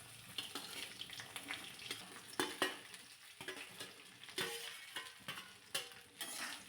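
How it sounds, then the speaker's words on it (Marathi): Garlic and chopped okra being sautéed in a pan, heard as a quiet sizzle broken by several sharp scraping and stirring strokes, close and with no voices. "लसूण थोडासा लालसर होईपर्यंत परतून घ्यायचा आहे परतून झाला की त्यामध्ये चिरलेली भेंडी घालायची"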